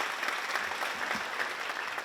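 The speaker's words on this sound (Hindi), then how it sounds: "आपसे आग्रह करूंगा कि जोरदार ताली बजाएं अपने लिए" Audience applause at an award ceremony in a hall, a dense, even wash of many hands clapping, steady and moderately distant, with no voices standing out.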